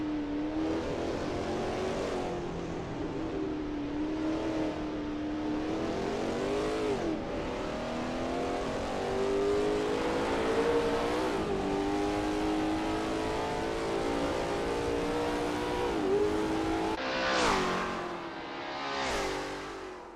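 A Lola T70 MkII Spyder race car in a racing game laps Sebring, its engine droning steadily with rising and falling revs through the corners, close and loud throughout, with sharp upshift bursts near the end.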